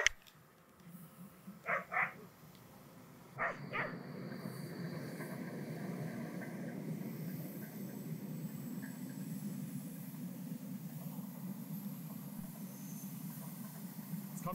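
Dogs playing outdoors give a couple of quick barks and snaps early on, then a passing train's steady rumble takes over and masks them.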